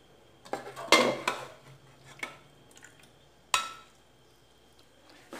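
Spoon clinks and scrapes against a dish while sauce is spread over layered salt cod with pineapple, several sharp close taps separated by quiet pauses.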